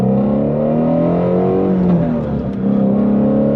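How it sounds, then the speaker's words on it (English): A 2020 Shelby GT350R Heritage Edition engine runs loud and close, its revs rising in a smooth sweep, dipping briefly, then climbing again with a strong, steady drone. "there really is nothing like the sound of this car."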